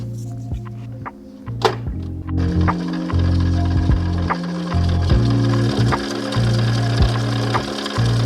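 Sewing machine stitching with orange thread, a close, steady mechanical whir with rapid rhythmic needle thumps that stop and restart in short bursts, alone without talk.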